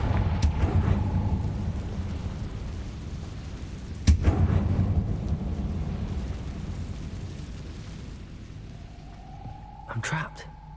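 A Confringo blasting spell fires in Hogwarts Legacy, sounding as a sharp explosive crack about four seconds in and another burst near the end, over a low rumbling game soundscape.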